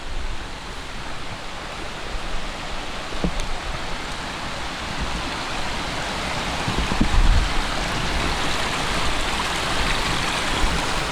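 A waterfall pours over a stone crossing on the River Ribble, giving a steady, full rushing roar of falling water that stays constant and close for the whole stretch.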